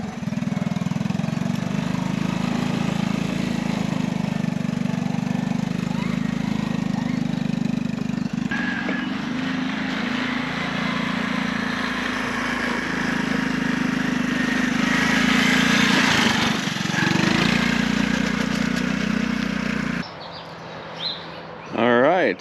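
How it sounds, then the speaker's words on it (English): An old Honda ATV engine runs with a steady, continuous mid-pitched drone that stays close and fairly loud throughout, dipping briefly near the end. "I got them both running and driving the best I can"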